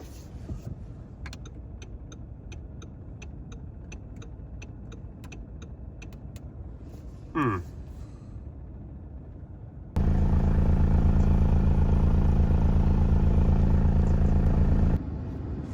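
Audi A3 that had not run in ten years idling as it warms up, a steady low engine rumble with faint ticking early on, then a louder, denser droning stretch before it eases back.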